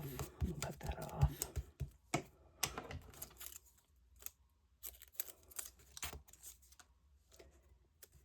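Scissors snip through paper scraps for a collage in a board book, with a quick run of crisp cuts bunched at the start and scattered single snips after, close up and fairly quiet.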